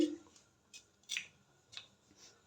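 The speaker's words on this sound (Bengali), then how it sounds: "এখন আলু কাটছি" Small new potatoes being cut with a knife, giving about four short crisp strokes spaced roughly half a second apart, close and fairly quiet, with no talking.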